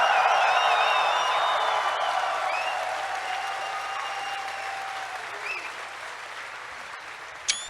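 Loud crowd applause and cheering at TennoCon 2019, a Warframe fan convention, sustained clapping with whistles that gradually fades over several seconds.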